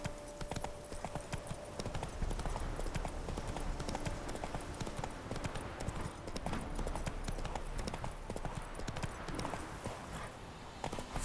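A horse gallops in The Witcher 3, with rapid rhythmic clip-clop hoofbeats running continuously at a moderate, fairly quiet level.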